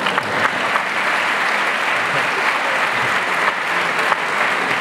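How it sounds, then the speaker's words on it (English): An audience at an MIT talk breaks into sustained applause, a steady wash of many hands clapping at moderate level, with a few sharper claps standing out. "I think that deserves an applause."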